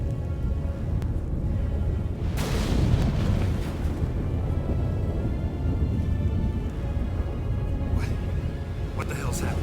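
A thunderstorm in the video game The Witcher 3 rolls in with a loud rumbling surge of thunder around the middle, over steady rain-like noise and a deep background roar, with voices talking nearby.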